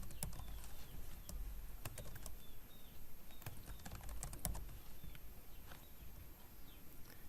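Code is typed on a computer keyboard with a steady patter of light, quiet key clicks and occasional sharper taps, heard alone.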